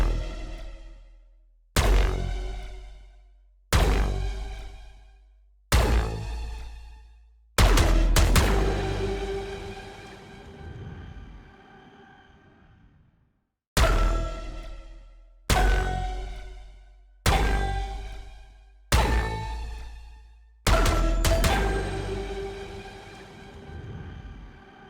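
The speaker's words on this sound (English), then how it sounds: "first I'll play the kill banners for body shot kills, and then I'll play the kill banners for headshot kills." Valorant Holo Meridian skin kill banner sounds in the video game, played as two sets of five: sharp struck hits that each ring out and decay, with the fifth of each set longer and more resonant, and a brief silence between the sets.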